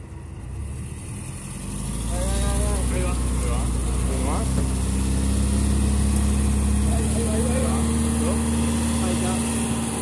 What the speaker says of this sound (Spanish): Ahora metele la marcha atrás y dale para atrás, a ver.